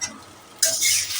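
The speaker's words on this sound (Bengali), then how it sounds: "এবার আর ঢাকনা চাপা দেবো না, এখন খুলেই এটাকে ভাজা ভাজা করব।" Onions and poppy seed paste fry in an open pan, a soft stir at first, then a sudden bright, steady sizzle that rises and holds close up.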